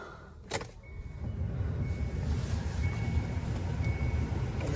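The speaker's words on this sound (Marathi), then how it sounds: "तर गाडी चालू करूया आपण" A car engine turns over after a brief knock, then settles into a steady, low running rumble close by, with faint high beeps in the background and no talking.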